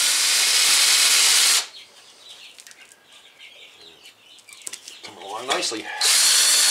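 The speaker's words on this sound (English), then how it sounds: "What we're going to do now is I'm going to polish these grooves." A power tool polishes the grooves of a Land Rover LR3 front brake rotor, held down by foot. Loud, steady whirring opens and closes the passage, and a quiet stretch in between carries a brief spoken word.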